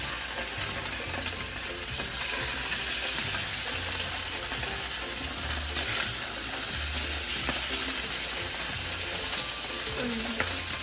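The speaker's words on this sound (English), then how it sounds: "And now I know my pan is really hot. So then I'm gonna put my fish in, skin side" A salmon fillet laid skin side down in a very hot pan, giving a steady, moderately loud broadband sizzle that runs through the whole stretch with small crackles and scraping ticks, no voices.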